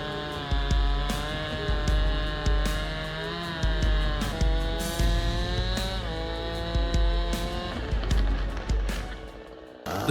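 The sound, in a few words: Stihl 090G and McCulloch 797G chainsaws cutting solid timber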